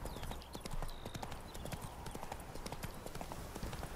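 Horse hooves clip-clop steadily in The Witcher 3, a quick regular trot of hoof strikes running throughout at moderate loudness over ambient game sound.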